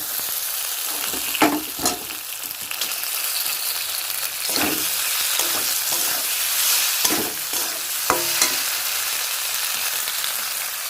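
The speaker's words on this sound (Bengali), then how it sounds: "এবার এখানে যে পাস্তাগুলো আছে সেগুলো অল্প অল্প করে দিয়ে দেবো" Pasta fries in a hot pan with a constant broad sizzle, as pieces go in a little at a time and a few sharp scrapes and knocks of a utensil break through, close and steady.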